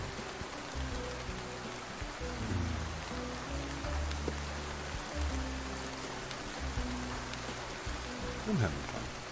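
Steady rain hiss in the Roblox game Lumber Tycoon 2, a continuous broad wash of falling water running throughout with low rumbling undertones and no voices.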